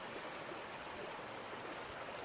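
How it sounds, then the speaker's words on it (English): Creek water ripples over rocks and pebbles in a steady, close, even hiss, with no voices. "just listening to that sound, rippling waters over the rocks and pebbles,"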